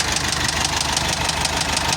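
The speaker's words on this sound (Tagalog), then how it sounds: "Katok na naman ang makina." The diesel engine of a Foton Tornado truck, a Cummins Euro 4, runs with a rapid, steady knocking rattle, loud and close, with no one speaking.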